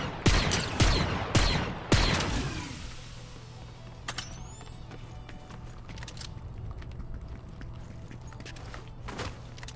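Gunfire in the video game Fortnite, a burst of several rapid sharp shots in the first two seconds, then scattered fainter cracks and footstep-like taps over a steady low game hum.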